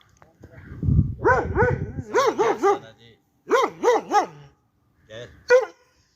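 A dog barks repeatedly in short, yelping bursts, loud and close, with a rough rustling noise at the start and a pause between volleys.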